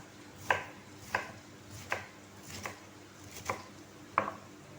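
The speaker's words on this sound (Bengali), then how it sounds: "আগে বাঁধাকপিগুলো এইভাবে আমি কেটে নিচ্ছি।" A knife chopping cabbage on a kitchen board, six crisp evenly spaced cuts at a steady rhythm, close and fairly quiet with no talking.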